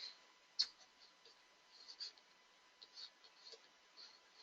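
Pen scratching by hand across paper while writing out an email address, soft and close, with faint irregular strokes and a sharper tap early on, no talk over it.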